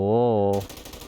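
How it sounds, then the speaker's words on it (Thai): Rapid machine gun fire from GTA V with a zombie mod, a dense, loud burst of shots that follows a sustained droning tone. "หรือเป็นปืนกลดีกว่า"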